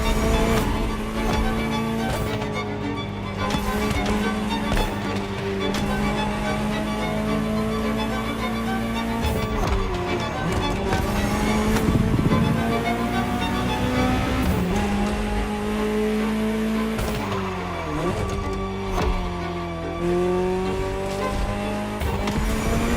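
A Ferrari supercar in the racing game The Crew Motorfest revs hard, its engine pitch climbing and dropping through gear changes, with bursts of tire squeal and a steady loud drone, no voices.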